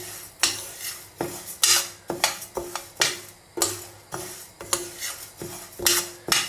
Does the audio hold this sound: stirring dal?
yes